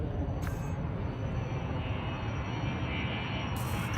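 Spaceship engines throttle up in the Elite Dangerous video game, a steady, loud low roar with a thin high whine above it and brief soft chimes near the start and end.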